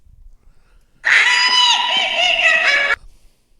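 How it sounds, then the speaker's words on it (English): A witch scream sound effect bursts out loud and shrill, holding for about two seconds as a single wavering, high-pitched cry before cutting off abruptly into near silence. "That's the witch scream."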